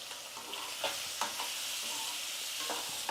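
Potatoes and eggs sizzle in a hot pan while a spoon scrapes and stirs them every so often, a soft steady frying hiss with scattered clinks, close and alone.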